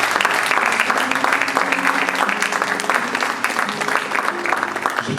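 Church congregation applauding to acclaim the Lord at a youth gathering, a loud, sustained wash of hand clapping with cheers and voices mixed in.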